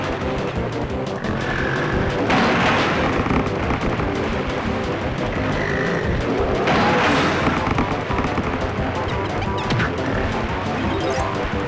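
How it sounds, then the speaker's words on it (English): Rambi the rhino charging into and smashing wooden huts in Donkey Kong 64, with loud crashing impacts in two or three bursts over dense game music and effects. "So if you want to break these huts, you can charge attack it."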